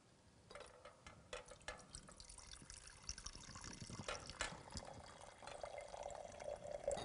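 Metal mass lowered into water, faint close splashing and dripping sounds with small trickles that grow a little busier toward the end, no voices.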